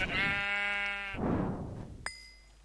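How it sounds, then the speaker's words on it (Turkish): A Minecraft sheep gives one long, clear bleat, followed by a brief rustling burst and a short chime-like tone. "Ee, koyun."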